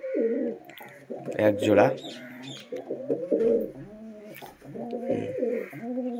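Madras and local pigeons cooing close by in repeated soft, rolling calls, with someone talking over them throughout.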